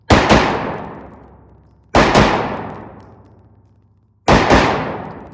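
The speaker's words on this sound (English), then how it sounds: "So let's throw out a few rounds." A Springfield Echelon pistol fires three loud, sharp shots about two seconds apart. Each crack rings out and decays slowly, with a faint second report right after each shot.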